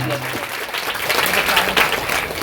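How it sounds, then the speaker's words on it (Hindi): Clapping from a gathered crowd at a village welcoming ceremony, honouring children, a dense patter of hands sustained across the whole stretch at moderate loudness. "जोरदार तालियों का स्वागत किया जाए।"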